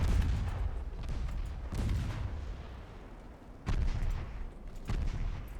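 Heavy naval guns fire in the warship battle game Ultimate Admiral Dreadnoughts, several deep booming salvos at irregular intervals, each with a rumbling tail, loud and alone without talk.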